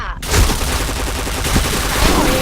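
Rapid, dense gunfire from the Point Blank video game, a continuous loud barrage of overlapping shots with faint voices underneath.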